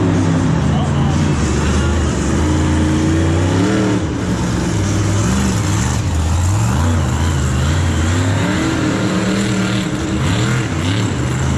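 Monster truck engine at a stadium event on a muddy track, the VP Racing Fuels Mad Scientist, a loud continuous roar with rising and falling revs, an arena announcer talking over it throughout.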